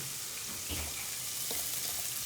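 Pomodoro pasta sauce being stirred as it fries in a pan, a brief dense sizzle with a couple of soft stirring scrapes, close and continuous.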